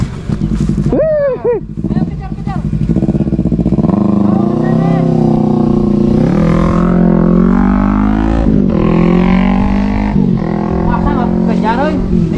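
Motorcycle passing close by, a loud sustained engine roar with rising and falling revs over about twelve seconds, while people talk and shout excitedly over it.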